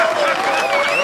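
A short burst of crowd applause, dense clapping held steady and loud, with a faint tonal whine running underneath.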